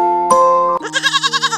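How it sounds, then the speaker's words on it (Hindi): Several goats bleat in a cartoon about a shepherd grazing his herd in a forest, a wavering, pulsing bleat following a steady tonal note, loud and close with no talk. "एक भोलू नाम का गडरिया रहता था, जो जंगल पास होने की वजह से अपनी बकरियों को जंगल में ही चराया करता था।"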